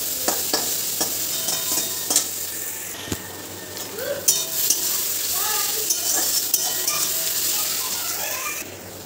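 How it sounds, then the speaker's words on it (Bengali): Whole garam masala spices, bay leaf, green chilli and onion sizzle steadily in hot oil, with a dense close hiss and scattered scraping stirs and clinks throughout. "তেলের মধ্যে একটুখানি গোটা গরম মশলা, তেজপাতা আর কাঁচা লঙ্কা আর একটু পেঁয়াজ দিয়ে নিয়েছি।"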